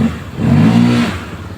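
Honda ADV scooter fitted with a Euro Griffin 180 primary gear and tuned CVT, its engine revving up hard from idle to a loud, sustained mid-range roar before easing back down, heard close and without talk.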